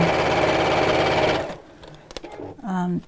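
A sewing machine runs a fast steady stitch along a bag's side seam for over a second, then stops, followed by small handling clicks and a short hum.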